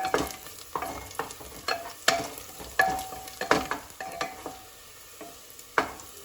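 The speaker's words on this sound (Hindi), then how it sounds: "साथ ही ऐड कर देंगे 1 हरी मिर्च और 1 लाल मिर्च और अच्छे से इन सबको हम भून लेंगे।" Garlic cloves with one green and one red chili frying in a pan for Kashmiri haakh, with a steady sizzle broken by repeated sharp clinks of a utensil stirring against the pan, close and moderately loud, no talking.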